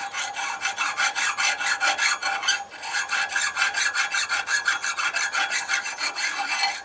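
A round file rasps rust off a semi trailer S-cam part in steady back-and-forth strokes, about two per second, loud and close, with one brief pause midway and no talking.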